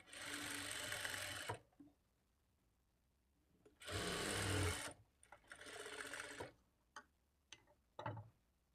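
A sewing machine stitches the back darts of a blouse in three bursts of fast, steady whirring with short clicks and quiet pauses between them.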